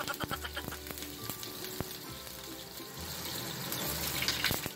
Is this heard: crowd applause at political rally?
no